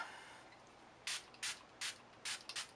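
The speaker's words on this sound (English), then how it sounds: "and then setting spray." Makeup setting spray hisses out in five short, crisp bursts from a pump bottle, close and fairly quiet against a near-silent room with no talking.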